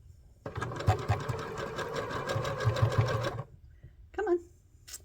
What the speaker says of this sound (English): Okay, and you just sew it straight down.